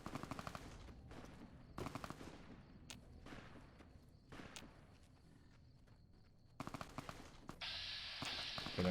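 Gunfire in the game Fallout New Vegas near Bitter Springs: sharp repeated shots and bursts crackle at a distance amid footstep-like thuds, ending in a louder sustained roar of fire.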